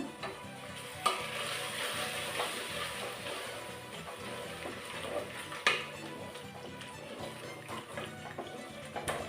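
Rice, vegetables and salt for veg pulao are stirred in a pot with a spoon, giving quiet, repeated scraping and clinking over a soft sizzle, with a couple of sharper knocks against the pan.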